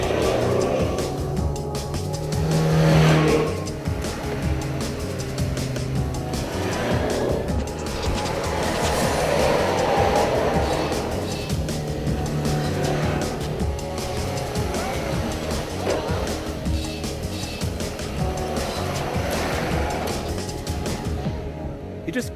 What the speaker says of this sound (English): the SUVs made their way from the flag-off point to the dunes